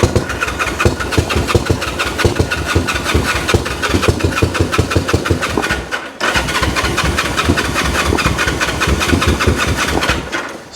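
A 1974 Honda CL450 motorcycle revived after 25 years cranks on its starter and runs with a loud, close, rapid pulsing beat, cutting out briefly near the middle before firing up again and running steadily.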